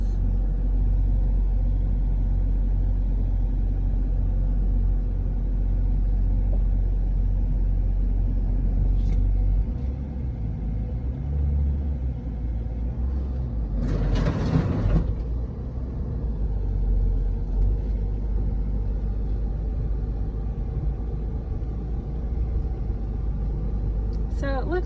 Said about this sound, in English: I'm going to put my car in 4-wheel drive and go up over this